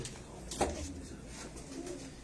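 Breeder pigeons at a loft in Faisalabad coo in low, rounded, repeated phrases, steady and moderately close, with a brief sharper knock partway through.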